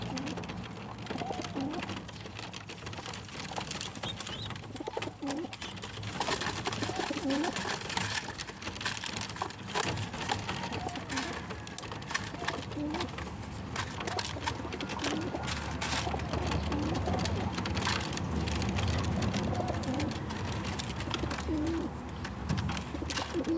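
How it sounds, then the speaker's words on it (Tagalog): Pigeons cooing softly and repeatedly after being fed, low throaty calls overlapping at close range against a faint steady background hiss. "tapos na pinakain ko ang aking mga kalapate"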